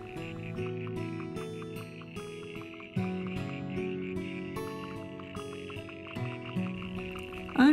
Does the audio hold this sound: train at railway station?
no